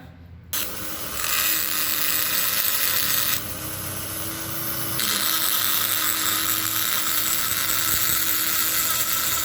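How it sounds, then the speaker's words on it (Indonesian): A die grinder shaping the combustion chamber of a motorcycle cylinder head on a bored-up 183cc Yamaha V-Ixion, a loud high whine that starts abruptly and keeps running close up, shifting pitch as the load changes. "Ini sudah ada coaan, tinggal kita rapikan dengan tuner saudara ya."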